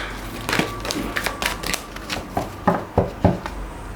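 Tarot cards shuffled and drawn from a deck during a reading, a run of short papery snaps and slides with no talk, the crisp flicks getting louder near the end.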